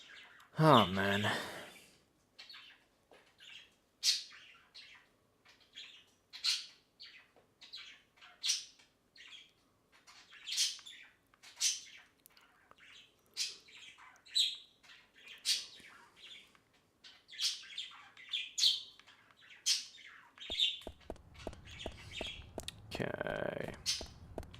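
Birds chirp in the video game Deadly Premonition, giving repeated short tweets in an irregular rhythm at moderate volume, with a brief burst of voice at the start and louder noise near the end.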